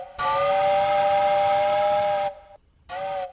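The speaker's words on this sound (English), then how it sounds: "You hear the train whistle, right? That's really high pitched." A high-pitched train whistle sounds one long, clear blast of about two seconds, falls briefly silent, then starts a second short blast.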